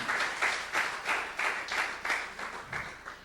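Church congregation clapping in rhythmic unison during a Spanish-language sermon, a steady beat of about three claps per second, fairly close and without talk.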